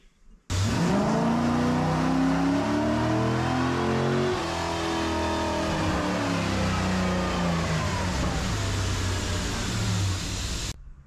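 A Corvette with a tuned port intake starts and runs close by, a loud steady engine note with rises and falls in pitch as it is revved, then settling and cutting off at the end.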